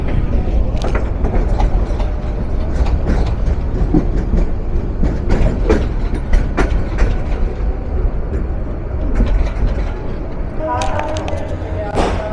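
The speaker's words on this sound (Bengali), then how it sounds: "বিমানবন্দর স্টেশনের 1 নম্বর প্ল্যাটফর্মে প্রবেশ করলো 2606 লোকোমোটিভ নিয়ে রাজধানী ঢাকা থেকে নোয়াখালী অভিমুখী উপকূল এক্সপ্রেস ট্রেন নাম্বার 712" Upokul Express, train 712 from Dhaka toward Noakhali, pulls into platform 1 at Airport station behind locomotive 2606, a steady loud rumble with rail clatter and metallic clicks throughout, busy platform noise and talk mixed in.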